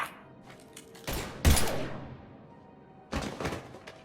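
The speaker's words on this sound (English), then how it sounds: "Now open fire!" Gunfire in the video game Mass Effect 3: a few separate bursts of booming shots with decaying tails, one at the start, a heavier pair in the middle and another near the end, with no talk over them.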